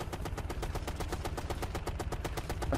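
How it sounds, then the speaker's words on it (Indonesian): A stationary mounted gun firing in the video game Ghost Recon Future Soldier, heard as a rapid, evenly spaced stream of heavy automatic shots, steady and fairly loud throughout. "Стационарное орудие."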